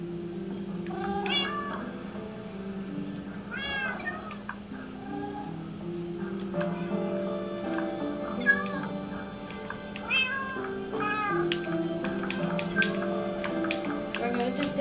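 A cat meows repeatedly in a Minecraft-style video game, several short meows rising over steady, tonal game background sound.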